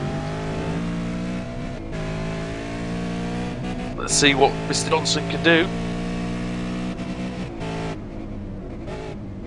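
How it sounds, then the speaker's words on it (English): V8 Supercar racing engine at Okayama circuit, a continuous loud droning engine note with steady harmonics and a brief rising rev, heard under race commentary. "You can just marvel on how the V8 Supercar sounds as well for everybody at home."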